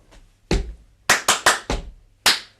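Body percussion bar with deep foot stomps and sharp hand claps in a stomp, clap, clap, clap, stomp, clap rhythm, close and crisp with short gaps, no voices.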